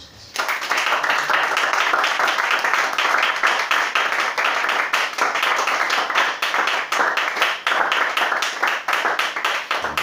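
A church congregation bursts into loud, sustained applause during a worship service, many hands clapping together in a steady rhythm that runs to the end, with faint voices mixed in.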